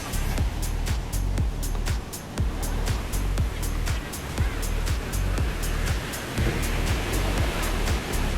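Ocean surf at a Kottiyoor and Kannur beach rolls in a dense, continuous wash with repeated crashing pulses, loud and close, with wind and faint voices mixed in.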